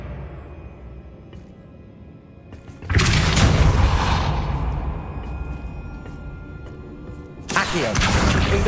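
A Depulso spell blast in Hogwarts Legacy lands as a sudden loud booming burst around the three-second mark, decaying into a lingering rumble, followed by a second heavy blast near the end.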